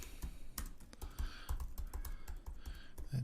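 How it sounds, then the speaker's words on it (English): Someone types initials on a computer keyboard: a quiet run of quick, irregular key clicks, close but soft, with no voices. "or I can just type my initials maybe"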